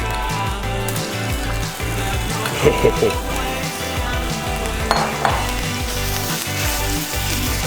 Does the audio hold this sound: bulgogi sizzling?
yes